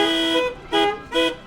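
Car horns honked by local performers in a street-theatre symphony for horns and windshield wipers: three loud, sustained blasts in a steady rhythm, each lasting about half a second with short gaps between, close and without voices.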